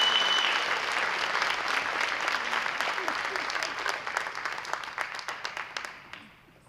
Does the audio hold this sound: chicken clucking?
no